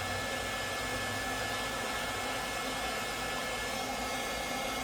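A hair dryer blows with a constant, loud rushing whoosh and motor hum, steady from start to finish with no talking.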